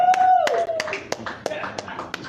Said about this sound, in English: Y'all can clap for them.